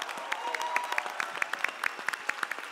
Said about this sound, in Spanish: aplauso a Dios fuerte